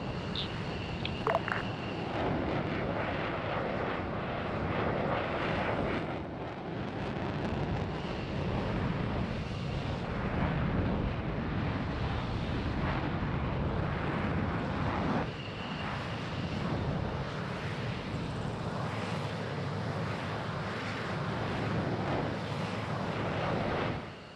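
Aircraft engine in ARMA 3, a steady droning roar sustained throughout with slight swells in intensity, loud and continuous with no pauses.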